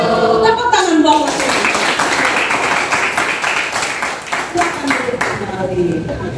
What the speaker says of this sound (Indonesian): Tepuk tangan bawah